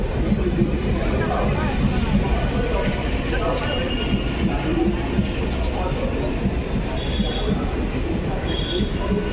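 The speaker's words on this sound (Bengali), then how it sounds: "রেল লাইন নয়েজ তো থাকবে।" A train rumbles steadily along the tracks with faint rail squeal and a murmur of voices mixed into the constant noise.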